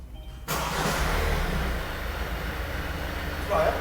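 A Kia Sorento MQ4 engine catches after a short quiet gap and settles into a steady, fairly loud running hum and whoosh, heard close and continuous.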